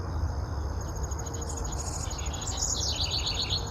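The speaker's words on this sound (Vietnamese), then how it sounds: "Quý vị thấy ở đằng sau lưng của mình cái con chim họa mi của mình nó hót" A hwamei songbird sings short, bright, faint phrases in a garden, set against a steady chirring of insects in the background.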